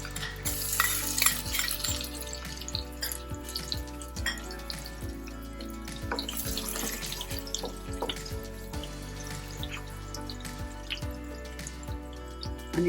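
Mustard seeds, cumin and crushed ginger and garlic frying in hot oil for pav bhaji, a steady close sizzle with sharp popping crackles and occasional stirring scrapes throughout, no voices.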